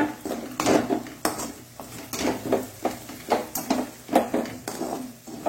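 Sabudana kichidi with added groundnut being stirred in a pan, producing a steady rhythm of loud metal scrapes and clanks of the spoon against the pan, close up and without talk.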